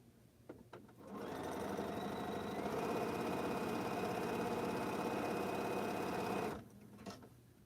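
A sewing machine stitches quilt blocks in one steady, even run of about five seconds, close and clear, with a few soft handling clicks before and after.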